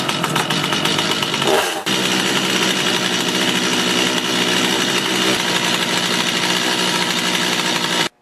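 A Stihl MS250 chainsaw runs after a pull-cord recoil repair, a loud close buzzing engine that surges briefly near the start and then holds a steady high-revving drone until it cuts off.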